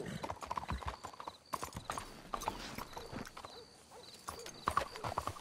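Rhythmic horse hooves clopping at a walk, close by, with a few soft snorts and jingling tack and no talking, in the video game Red Dead Redemption 2.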